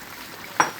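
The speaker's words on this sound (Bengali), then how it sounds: "এবার দিয়ে দেবো বেগুন ভাজাগুলো।" Fried eggplant slices dropped into a hot pan give a sudden short sizzling hiss that quickly fades, close and fairly loud against a quiet background.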